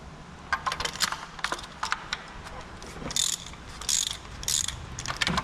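A 16mm wrench loosens spark plugs on a Kia Rio 1.2 petrol engine, making bursts of close metallic ratcheting clicks and clinks in quick repeated runs, with faint background hum.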